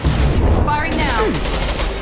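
Rapid gunfire from combat against Krogan in Mass Effect 2 Legendary Edition, a loud dense burst of shots with whooshing, pitch-sweeping weapon effects layered on top, close and continuous.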